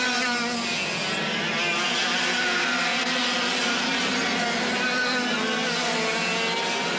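Rotax-powered racing karts at the Jesolo track, including a Cali kart being thrown sideways, make a loud, continuous buzzing engine whine with layered revving, close and steady throughout with no talk.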